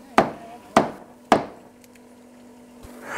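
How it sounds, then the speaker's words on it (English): Nails hammered into wood on a sunken boat being repaired: three sharp, evenly spaced hammer blows close by, then a quiet pause with faint knocks. "I have to hold on to it and hold the nails and hammer everything in"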